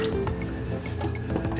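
Water poured into a blender jar while making beet juice, a soft close trickling and splashing with small drips, steady and fairly quiet, no talking.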